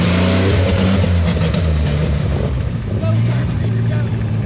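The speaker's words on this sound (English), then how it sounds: "Carburetor struggling." Engine of a Land Cruiser rock buggy revving loudly and unevenly, its carburetor struggling, a steady low drone with surges that runs the whole time, close and dominant, with voices faintly under it.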